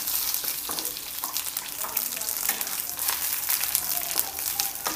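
Curry leaves and garlic fry in hot oil in a pan for tomato chutney, a steady close sizzle with scattered sharp crackles and stirring noises throughout.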